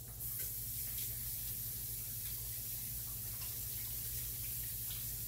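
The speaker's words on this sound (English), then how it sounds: "Rinse my hand a little bit." A kitchen tap runs steadily while hands are rinsed beneath it, a constant hiss of flowing water with faint splashes, close and quiet, no voices.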